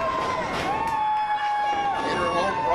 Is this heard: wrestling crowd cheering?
yes